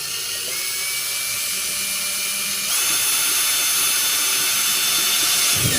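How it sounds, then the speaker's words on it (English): A power drill with a wood bit bores a hole while fitting out a distribution box with sockets, giving a continuous whine that steps up louder and harsher about halfway through and runs on alone. "now I am going to change a wood drill bit for a step drill bit in order to get a bigger hole."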